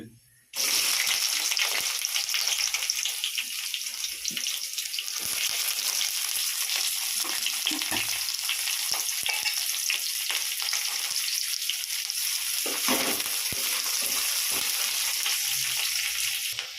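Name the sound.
onions frying in a pan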